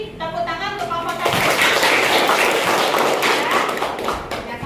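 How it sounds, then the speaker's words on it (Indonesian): A teacher speaks briefly, then a class breaks into steady, dense clapping for a student group that fills the room and carries on to the end. "Mari kita beri tepuk tangan untuk kelompok 1."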